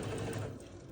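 A sewing machine stitches quilt fabric for an hourglass block, a brief, close, steady whir of rapid needle strokes.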